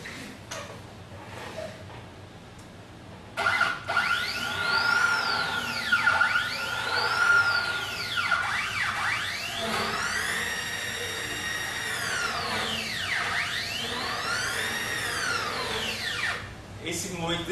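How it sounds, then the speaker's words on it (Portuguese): A homemade CNC milling machine axis travels fast, with stepper motors giving a whine that sweeps up and down in repeated arcs and a thin tone early on, over a low hum of background noise. "Esse movimento desse eixo é impressionante, a velocidade."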